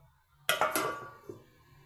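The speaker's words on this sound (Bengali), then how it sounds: "এবার আমি এটা ঢাকা দিয়ে দেবো" A metal lid goes onto a pot of steamed hilsa fish, a couple of quick clattering clinks followed by a fainter tap, fairly close in an otherwise quiet kitchen.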